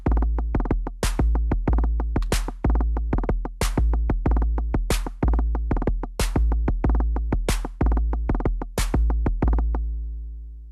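A Korg Volca Drum plays an R&B beat built on two kick drums, with punchy, booming kicks in a syncopated repeating pattern, joined by sharper hits and decaying away at the end.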